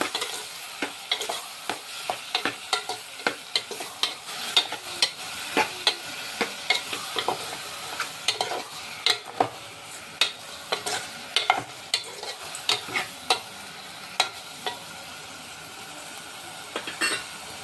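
Cucumber curry with turmeric and salt is stirred in a frying pan, a spatula knocking and scraping the pan in a steady, repeated rhythm over a low sizzle, close and without talk.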